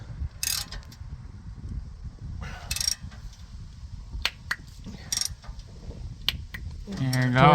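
A ratchet torquing exhaust bolts during a backyard exhaust repair gives several sharp, close clicking bursts spread through the clip, separated by quieter gaps over low background rumble, with a rising hum at the end.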